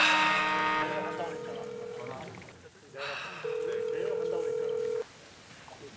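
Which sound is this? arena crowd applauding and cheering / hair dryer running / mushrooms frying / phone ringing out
phone ringing out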